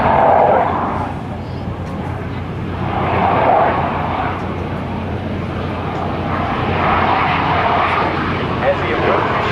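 An F/A-18C Hornet jet engine at an airshow demonstration swells and fades in long surges as the pilot works the throttle, a loud, rushing roar from a distance with steady wind-like noise.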